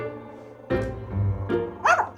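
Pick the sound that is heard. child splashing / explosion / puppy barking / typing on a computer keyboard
puppy barking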